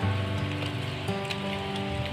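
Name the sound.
heavy rain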